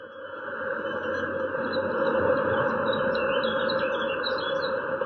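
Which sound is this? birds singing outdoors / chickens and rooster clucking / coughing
birds singing outdoors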